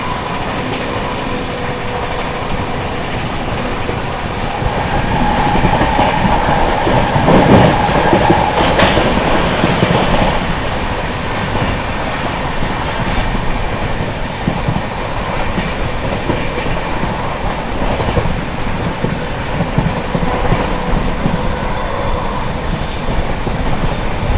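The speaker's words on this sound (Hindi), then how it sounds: "अपनी Ayodhya cantt Anand Vihar terminal Vande Bharat express" The Ayodhya Cantt–Anand Vihar Vande Bharat Express passes close by in a loud, steady rush of rolling wheels and rail noise, swelling midway with faint clatter and squeal and no voices.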